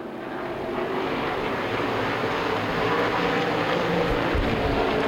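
Stock cars racing into a corner at Winchester Speedway during an ARCA/CRA Super Series 100-lap race, a loud, steady engine roar that swells slightly as the field passes, with no talk.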